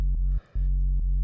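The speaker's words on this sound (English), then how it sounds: "Just a pretty basic distorted sine wave." A thick, buzzy distorted sine bass from the Vital synth holds steady, briefly dropping out for a beat midway, with soft clicks at note edges.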